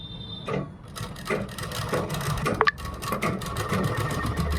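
Sewing machine running a straight seam on a kurta made from a dupatta, a continuous close mechanical whir with small rattles and one sharp clack partway through, no voices.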